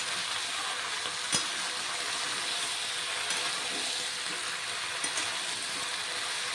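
Ginger frying and being stirred in a pan for bottle gourd curry, a soft continuous sizzle with a few faint clinks, close but gentle.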